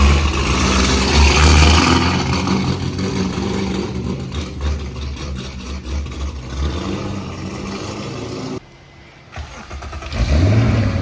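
A 442 cubic-inch LSX V8 in a C6 Corvette Z06 firing for the first time, a loud close roar with revs rising and falling, a brief dip to near-quiet, then the engine picks back up.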